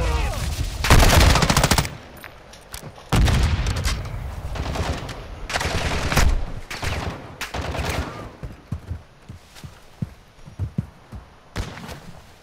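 Gunfire crackles in a Call of Duty firefight, long bursts of rapid automatic shots alternating with single loud cracks, close and intense, then thinning into scattered shots toward the end.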